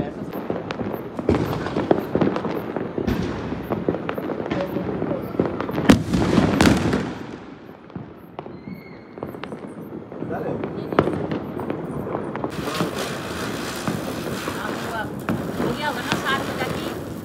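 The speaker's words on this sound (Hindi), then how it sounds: "लेकिन आपने कलर वाले तो देखो ये होता है रॉकेट।" Rocket firecrackers and fireworks burst during Diwali celebrations, a dense run of sharp cracks and pops with whooshing bursts, loud and continuous, with wind noise in the background.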